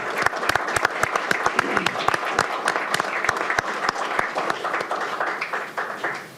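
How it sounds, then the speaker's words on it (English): Applause for veterans at a Pierce County Council meeting, a room full of people clapping steadily and loudly with a few sharp, close claps standing out, fading slightly at the end. "Let's give them a round of applause."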